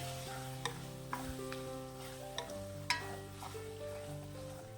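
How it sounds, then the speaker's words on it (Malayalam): Onions and fennel seeds stirred in a pan for an egg roast: a few sharp spoon clicks and scrapes against the pan, heard faintly under steady background music. "ഇനി സവാള ചേർക്കാം നന്നായിട്ടൊന്ന് മിക്സ് ചെയ്തെടുക്കാം"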